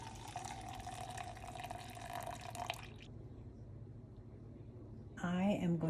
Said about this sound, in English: I am going to pour 1/3 of the milk